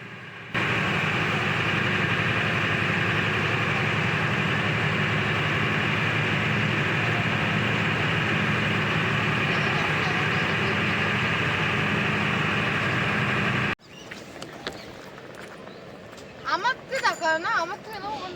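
A boat engine on the Ganges river at sunrise drones steadily and loudly for most of the stretch, then cuts away to quieter surroundings where voices are heard.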